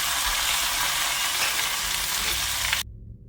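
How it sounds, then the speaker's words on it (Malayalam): Loud, dense sizzling of fried fish tossed into hot coconut oil with curry leaves for a fish milk curry, a steady bright hiss that stops abruptly near the end. "നമ്മൾ നേരത്തെ വറുത്ത് വെച്ചിരിക്കുന്ന മീനെല്ലാം ഇതിനകത്തോട്ട് ഇട്ട് കൊടുക്കുക"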